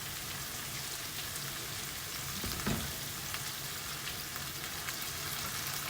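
Soy sauce hits a hot pan of sautéing bean sprouts and sets off a steady, faint, rain-like sizzle, with a brief louder burst partway through and some stirring.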